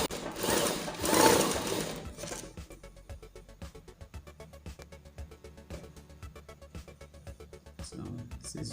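Sewing machine running a loose stitch on tulle net for ruffle trim, a rapid, even mechanical chatter of needle strokes close up, following a brief rustle of fabric at the start.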